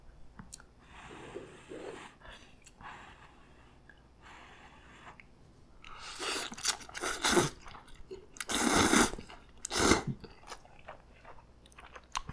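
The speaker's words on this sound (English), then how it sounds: "I'm gonna eat it right out of the pot." Someone eats hot Shin Ramyun instant noodles straight from the pot, close and loud. Soft chewing and slurping come first, then heavier bursts of slurping and wet chewing, with breaths in between.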